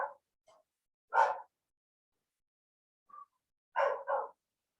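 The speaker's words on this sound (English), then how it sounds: "that dog keeps barking" A dog barks in short, separate bursts: one single bark, then a quick double bark after a pause, heard faintly from a distance in an otherwise quiet room on the Northern California coast.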